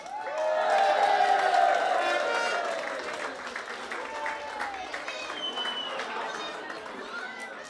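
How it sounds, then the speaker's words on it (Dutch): A crowd applauds loudly, clapping swelling at the start and then continuing at a steady level amid cheers and chatter. "Geef een groot applaus voor Femke Lievens."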